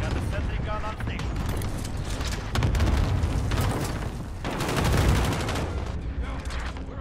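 A sentry gun fires steadily in Call of Duty: Modern Warfare, dense continuous gunfire mixed with booms and battle noise, while voices talk over the shooting throughout.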